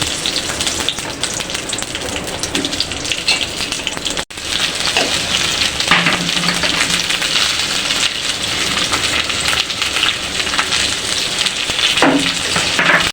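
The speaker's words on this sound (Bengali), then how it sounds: "এখন আমি ভেন্ডিগুলি ভেজে নিব" Okra frying in oil in a wok gives a dense, continuous crackling sizzle, close and loud, with occasional stirring scrapes and a momentary break near the start.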